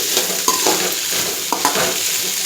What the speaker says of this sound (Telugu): ఉల్లిపాయలు వేసి మంచిగా కలిపేసుకోవాలి